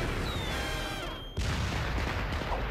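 Firecrackers pop and bang in an animated Inspector Gadget cartoon scene, a whistling rise cut off by a sharp burst followed by a dense, crackling run of explosions, loud and continuous.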